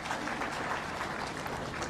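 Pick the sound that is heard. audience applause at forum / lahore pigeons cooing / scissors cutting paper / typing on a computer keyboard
audience applause at forum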